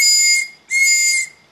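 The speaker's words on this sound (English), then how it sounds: "let's see this whistle. Does this whistle work?" A toy whistle blown in two shrill, steady blasts separated by a brief pause, loud and close with no talk over it.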